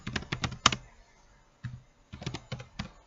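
Someone types code on a computer keyboard, quick clusters of crisp, close keystrokes broken by short pauses, with no talk.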